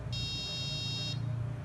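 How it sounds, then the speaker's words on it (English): A piezo buzzer in a small electronic circuit emits one steady high-pitched continuous beep lasting about a second, clear and close against a low background hum, with no talking. "So when I connect the circuit, it will make beep sounds."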